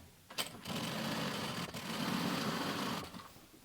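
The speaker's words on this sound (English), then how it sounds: "I'm going to sew up to where my hand is," A sewing machine stitches an upholstery seam on a footstool, running in a steady mechanical whir for a few seconds with a brief pause and a click partway, then slowing to a stop.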